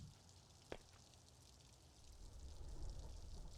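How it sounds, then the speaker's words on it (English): Steady rain hiss from the Road to the Show mode of a baseball video game, a faint broadband wash that swells a little louder toward the end, with one brief sharp click early on. "I like how you can hear the rain."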